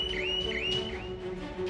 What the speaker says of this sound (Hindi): चोर मचाए शोर जिस शॉप पे लग जाए वहां कोई चोरी का अटेम्प्ट होगा तो अलार्म जोर से बजने लगेगा।